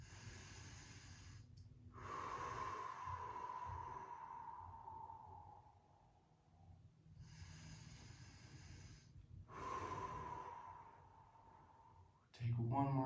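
Slow guided breathing during a hip stretch, with long drawn-out breaths rising and fading in two or three cycles, an instructor's voice occasionally heard over the steady breaths.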